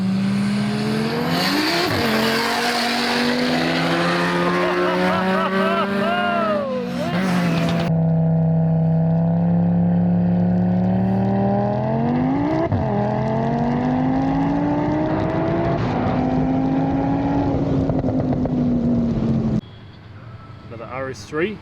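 A 1000-horsepower Audi RS3 roll racing at a Speed Demons event howls at full throttle, its engine note climbing through several upshifts over about twenty seconds, loud and close, with tire noise and voices underneath.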